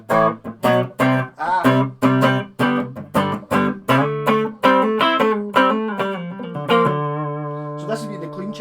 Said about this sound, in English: So this is it with the reverb off